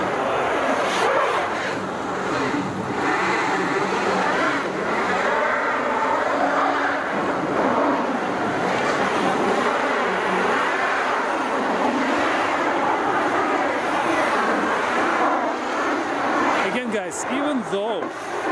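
An all-wheel-drive SUV on all-season tires straining up a snowy, icy hill, engine revving hard with a continuous whining drone, and talk over it.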